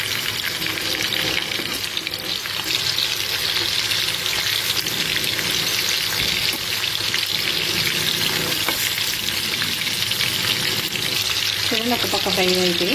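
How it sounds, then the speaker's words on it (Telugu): Farm fish pieces fry in hot oil with a loud, continuous close-up sizzle while the pieces are turned one by one, and a few scraping touches come near the end. "ఒక పక్క అయితే ఫ్రై అయిపోయి ఇప్పుడు మనం ఒక్కొక్కటి తిప్పుకుందాం."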